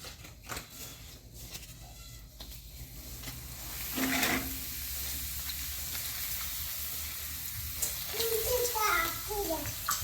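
Urad dal papad fries in hot oil with a bubbling sizzle that rises midway, while children and adults talk in the background.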